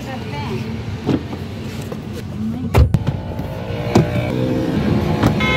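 A car is driven out and sets off, its engine running steadily with a few knocks and thumps from the vehicle and some background chatter.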